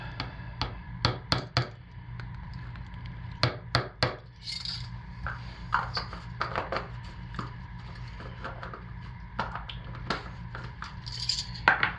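Sahara Gold colorant being mixed into cold process soap batter, a series of sharp tapping and clacking strikes of a utensil against a container, irregular in rhythm, close and fairly loud.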